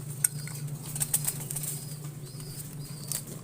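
Racing pigeons flap their wings in short flurries at feeding time, with soft scattered wing beats over a steady low background hum.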